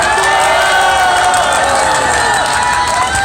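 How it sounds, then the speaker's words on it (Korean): A crowd at an outdoor Korean political rally cheers and claps loudly and continuously, a dense wall of shouting voices and whoops with clapping blended in. "박수 한번 치시죠"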